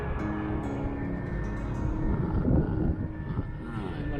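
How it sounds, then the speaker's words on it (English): An airplane passes low over a spot beside Faro airport on its landing approach, a steady loud engine roar that swells slightly mid-clip and holds throughout. "every 2 seconds you've got airplanes landing over the top of you"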